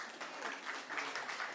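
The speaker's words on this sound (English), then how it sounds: "Give applause for Stephen." Conference audience applause, a brief, faint round of scattered clapping heard from a distance.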